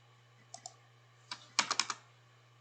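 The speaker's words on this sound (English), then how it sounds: "I'm going to type in y equals" Keys on a computer keyboard are tapped while entering an equation into an online graphing calculator, a few sparse clicks followed by a quick burst of keystrokes, quiet and close over a low steady hum.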